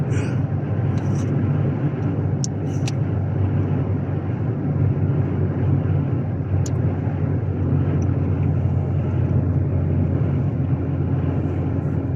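A car travels along a rough local road between villages, heard from inside as a constant loud low road rumble and engine hum with a few faint clicks.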